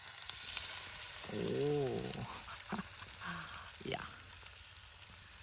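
Fish pieces fry in hot oil with a steady, close crackling sizzle, while a voice speaks briefly over it.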